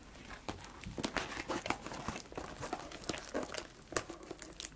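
Plastic packaging on a Pokemon card bundle crinkling and tearing as it is opened, a close, busy run of irregular crackles and rustles with sharper snaps.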